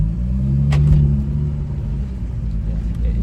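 A 2018 Jaguar F-Type 3.0 V6 R-Dynamic P380 AWD convertible pulls hard with a deep, continuous engine drone and rumble heard from inside the car, its quick shifts blending into a steady roar.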